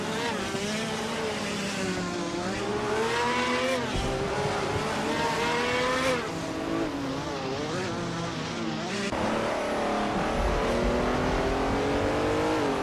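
Video-game race cars roar through the opening corners in a tightly packed field, engines rising and falling in pitch with overlapping revs, steady and loud throughout.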